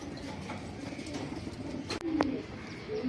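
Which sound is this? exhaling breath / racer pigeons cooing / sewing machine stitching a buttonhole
racer pigeons cooing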